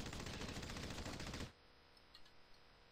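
Sustained rapid automatic gunfire from a weapon in the video game Red Faction, loud and dense for about a second and a half before cutting off abruptly to a quiet background with faint small pops.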